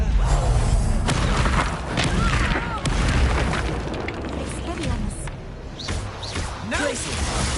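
Spell blasts from the Hogwarts Legacy video game burst and boom repeatedly in rapid combat, with sharp impacts layered over a dense wash of game effects while a player shouts spell names throughout.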